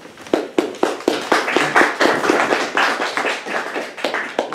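An audience at a lecture event applauds steadily, with many hands clapping at once in a dense, sustained patter.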